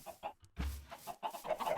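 Chickens on a farm in Minecraft clucking in short bursts, a few quick blocky clucks close by and fairly faint, with no talk over them.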